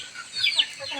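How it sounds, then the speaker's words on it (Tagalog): Native chickens, a small backyard flock of hens and roosters in a provincial setting, give short clucking calls at moderate distance, a few brief bursts over steady outdoor background. "yung mga native na manok"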